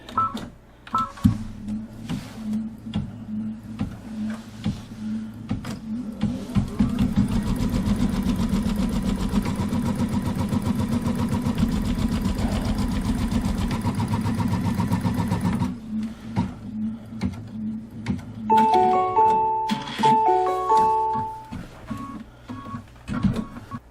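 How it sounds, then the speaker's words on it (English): An embroidery machine with blue top thread stitches the placement line for a Kimberbell Red, White & Bloom quilt flower block: a dense, rapid stitching rattle for about nine seconds, with soft thumps before it and a run of short electronic beeps afterward. "now we're going to stitch out the placement line for the fabric"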